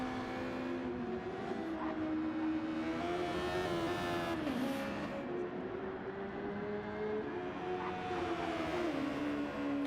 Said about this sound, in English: Can you hear the cars now?